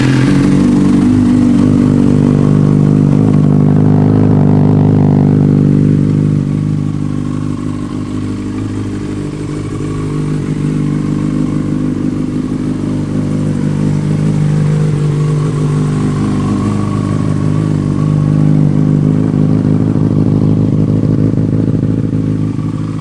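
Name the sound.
2009 Yamaha FZ6 motorcycle engine starting and running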